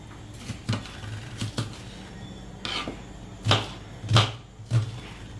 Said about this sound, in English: So I'm gonna cut up the onion finely.